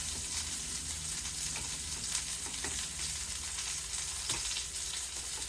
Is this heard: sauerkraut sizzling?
yes